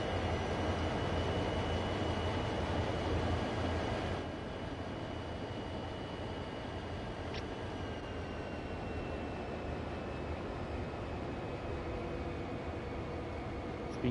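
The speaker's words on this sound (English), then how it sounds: "Oh, we do have a train inbound." Simulated train approaching in Train Sim World 5, a steady broad rumble and hiss of rail noise holding throughout, louder for the first few seconds and then settling, with a faint horn-like tone briefly.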